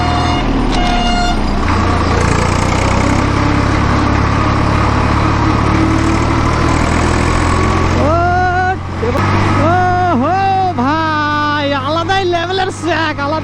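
Steady low engine drone from a tractor on a village ride, continuous and loud throughout, with a voice briefly heard and a run of rising and falling horn-like tones over the final few seconds.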